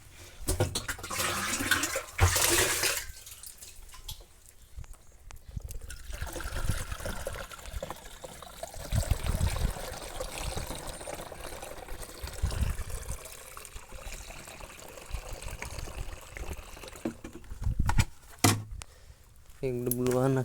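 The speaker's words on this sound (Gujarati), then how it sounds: "પંપમાં પાણી નાખી દઈએ" Water is poured into a crop sprayer pump tank for mixing herbicide to spray on a wheat field, giving a steady trickling splash that rises and falls under a voice talking nearby.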